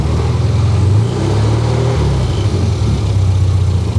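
Classic Mini engine running at a steady close idle, a loud low rumble with slight rises in revs, no talk.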